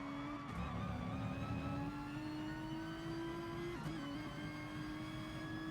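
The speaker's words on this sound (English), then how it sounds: "Weird engine sound, hasn't it?" Nissan GT-R race car in the GT Sport game, its engine holding a steady, slowly rising drone with layered whining harmonics and a brief dip during a gear change.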